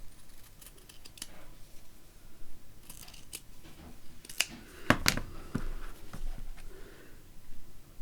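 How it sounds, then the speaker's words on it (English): Scissors trimming Tim Holtz fabric scraps: several crisp snips close by, scattered irregularly with a sharp cluster of cuts in the middle, over quiet rustling and no voices. "So let's get the scissors out and just trim a little bit off that."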